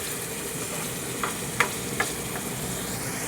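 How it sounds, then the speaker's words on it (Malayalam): Fish fries in a pan with an even, loud sizzle that holds steady throughout, broken by three or four sharp crackling pops near the middle. No one speaks. "നമ്മുടെ മീൻ വറുത്തത് ഇപ്പുറത്ത് ആയിക്കൊണ്ടിരിക്കുന്നുണ്ട്."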